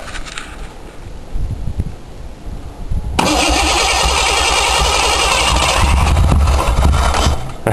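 Ford Crown Victoria engine cranking over with a steady starter whir that swells into a loud, rough near-catch, running on for several seconds close to the microphone with no talk.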